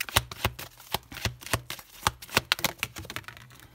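Cards shuffled and drawn for a tarot-style oracle reading: a close, loud run of crisp riffling snaps in an uneven but steady rhythm, heard on its own with no talk.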